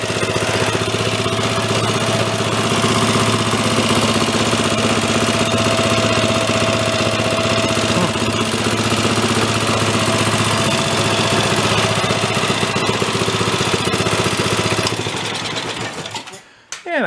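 A snow blower engine runs steadily and loudly after its choke is switched off, a constant droning roar that cuts out abruptly near the end.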